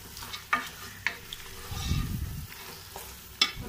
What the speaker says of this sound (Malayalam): ബീഫ് ചേർത്ത് കൊടുക്കാം. മിക്സ് ചെയ്തെടുക്കാം.